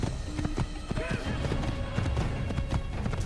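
A horse's hooves clip-clop in a steady trot inside the Assassin's Creed video game, fairly close and clear, with a brief neigh mixed in and no talk over it.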